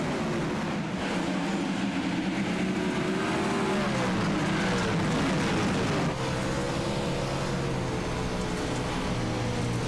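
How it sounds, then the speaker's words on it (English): 410 sprint cars race at Eldora in a racing sim game, a continuous, loud, high-revving engine drone with shifting pitch as several cars roar together on the dirt oval, with no talk. "Eldora, full of these 410 sprint cars."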